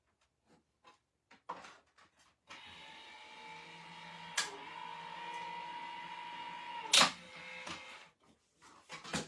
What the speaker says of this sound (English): Because I die cut so many things, I have an electric die cutting machine.